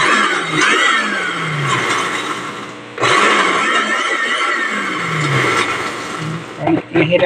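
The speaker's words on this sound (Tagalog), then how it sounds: "Blender na tayo." A high-pitched blender motor whirs loudly for several seconds while making baby food, briefly stopping and restarting, with a grinding, whining tone that rises and falls as it runs.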